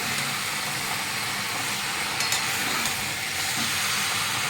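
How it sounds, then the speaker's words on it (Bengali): Chicken frying and being stirred in a pan for Bengali chicken kosha, with a steady hiss of sizzling oil and light scraping, moderately quiet and continuous, with no voices. "আমি চিকেনটা রান্না করছি। এটা কষে নেবো ভালো করে চিকেনটা।"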